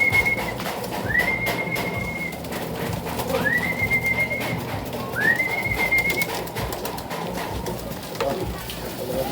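Pet pigeons coo at feeding time, three rising whistly calls repeating every couple of seconds over a busy, rustling outdoor background.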